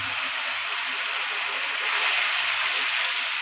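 A paste of ground chilli, ginger, cumin, garlic and onion fries in a pan for Bengali katla fish kalia, giving off a loud, steady sizzling hiss that swells slightly partway through.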